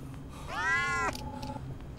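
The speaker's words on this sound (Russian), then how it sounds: "Только здесь кот еще гуляет, хотя бы кота бы не было." A cat in an animatronics survival video game lets out one clear, drawn-out meow that rises and then cuts off, followed by a faint lingering tone over a low background hum.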